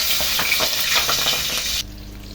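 Marinated pork belly liempo frying in hot oil, with a loud, steady sizzle that crackles close by and then abruptly drops away.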